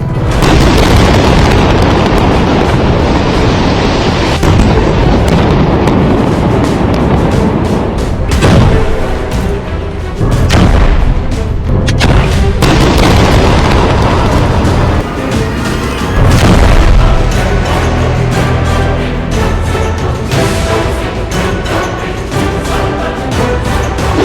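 Heavy, continuous booming explosions from Israeli air strikes on Hezbollah positions in Lebanon, loud and dense throughout with rumbling low blasts and sharper bursts, no talk.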